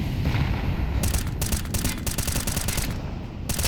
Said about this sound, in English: Serendipity just putting the shots through the smoke